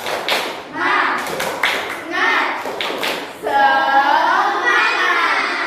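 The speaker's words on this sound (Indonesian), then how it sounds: "Ya, tepuk tangan yuk, pakai semangat dulu." Primary school children in an Indonesian classroom doing a rhythmic spirit clap, with patterned bursts of clapping and thumps mixed with chanting voices, followed by a sustained group shout.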